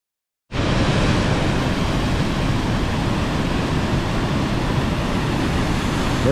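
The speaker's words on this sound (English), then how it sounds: "Here we are, waterfall number 7, Bridal Veil Falls, Northern Oregon." Bridal Veil Falls in northern Oregon roars as a loud, steady rush of falling water, a dense broadband wash that starts suddenly and continues unbroken, close and without talking.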